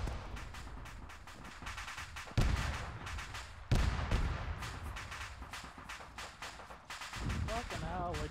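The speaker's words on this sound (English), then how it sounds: "Careful, I think we're taking fire from the south" Video game gunfire and explosions in a military battle, with repeated heavy booms and bursts of shots over dense, loud combat noise as players talk.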